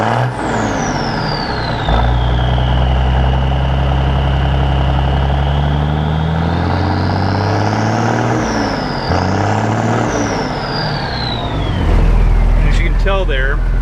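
An M35A2 military truck's diesel engine, with its fuel density compensator bypassed, runs loud and close in a steady low rumble. It swells briefly as the throttle rises midway, then settles back to a heavy idle.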